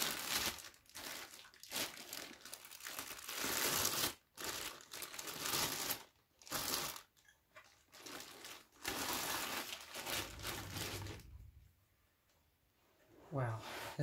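Plastic wrapping crinkling and rustling loudly as a car audio subwoofer rated 1800 watts peak is unwrapped, in long close bursts separated by brief pauses.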